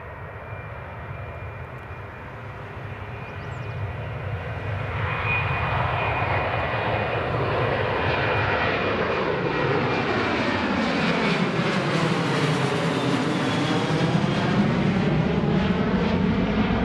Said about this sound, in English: here goes the Ryanair, just rolling down runway